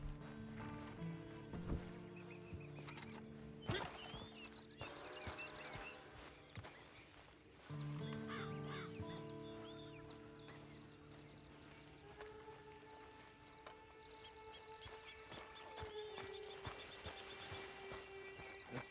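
Horse in the video game Red Dead Online, with clip-clop hooves, snorts and whinnies amid game ambience, tonal music-like tones and scattered clatter, fairly quiet overall.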